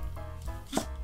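A knife slices through a stalk of Korean large green onion on a cutting board during tofu braise prep, giving a few soft, spaced cuts close by over a low steady background.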